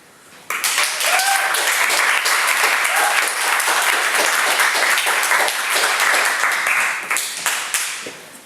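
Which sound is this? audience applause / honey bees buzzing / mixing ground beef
audience applause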